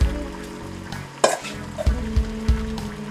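Vegetables cook in an andouille sausage sauce, a steady close sizzle broken by scraping stirs and several soft knocks of a utensil against the pan, with no speech.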